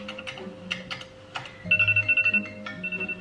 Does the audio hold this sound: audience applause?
no